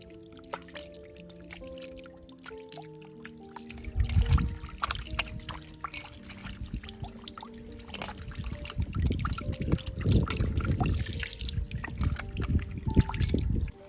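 A stream of water falls from a rocky hillside height at a camping spot, trickling and splashing steadily outdoors, growing fuller and louder in bursts, with musical tones running underneath.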